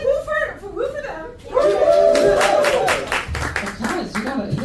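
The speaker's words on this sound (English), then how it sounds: "Guys, you got claps." Audience clapping for performers in a live comedy setting, a burst of applause starting partway through and sustained to the end, with chuckles and talk over it.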